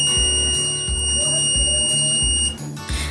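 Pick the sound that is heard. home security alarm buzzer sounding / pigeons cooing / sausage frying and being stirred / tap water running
home security alarm buzzer sounding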